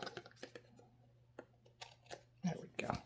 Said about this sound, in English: Let's just use the scissors for that one.